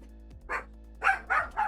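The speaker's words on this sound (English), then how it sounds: "Oh my god, these dogs." Several dogs bark in a short burst, with three or four close, loud woofs in quick succession over a steady low background hum.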